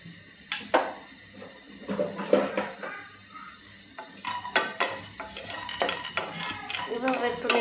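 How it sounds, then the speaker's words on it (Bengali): Raisins fried in ghee in a frying pan, heard as near metallic clinks and scrapes of a utensil against the pan in irregular bursts, with little audible sizzle and no speech. "ফ্রাই প্যানে আমি একটু ঘি ব্রাশ করে রাখছিলাম, ওটার মধ্যে এখন আমি এটা ভেজে নেব"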